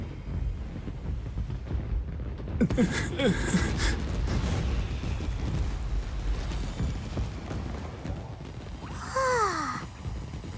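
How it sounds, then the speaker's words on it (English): Fireworks burst in the Genshin Impact video game, a cluster of crackling pops and whistling streaks around the middle, then another rising whistle and burst near the end, over a steady low background rumble. "So, Yoimiya, these fireworks, what do they mean to you"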